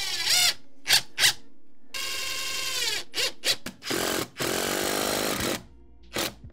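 Power driver sinking 3-inch screws into a subfloor patch, heard as several short whirring bursts and two longer sustained runs, fairly close and loud with pauses between.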